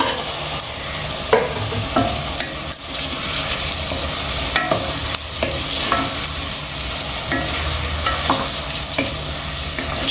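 Eggplants for stuffed gutti vankaya curry are stirred into a frying tomato masala, giving a constant sizzle broken by the scrape of a spoon. The sound is close, with no talking.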